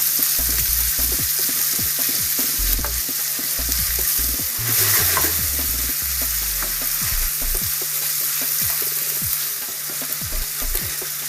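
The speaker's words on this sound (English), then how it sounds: "So brown up the meat a little bit." Meat browning in a pan, a steady close sizzle with repeated scraping and stirring clatter throughout.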